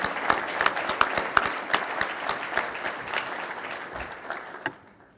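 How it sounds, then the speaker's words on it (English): Applause from an audience at a United Way dinner, a moderately distant, steady clatter of many hands with a few sharper claps, fading out toward the end. "Let's give her another round of applause."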